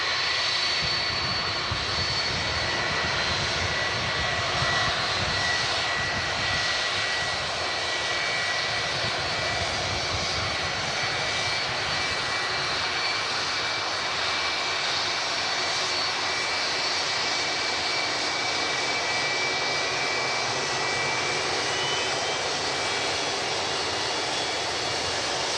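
Boeing 757 airliner with Rolls-Royce RB211 engines, a steady loud roar of jet engines that holds constant throughout, with no voices.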